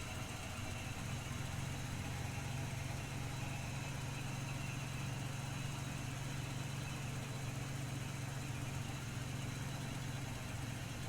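A started car engine idles steadily at low volume, a continuous even rumble with no clear variation.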